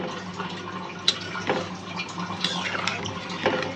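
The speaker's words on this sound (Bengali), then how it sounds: "এই যে আমি জল দিয়ে দিছি" Water pours and splashes into a pan of vegetable stalks in a home kitchen, a fairly quiet running and trickling with a few sharp clinks of the pan, no talking.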